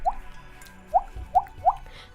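Four hollow, watery plinks made with the mouth, imitating a water droplet, spaced irregularly across a couple of seconds, close and fairly loud over a quiet background.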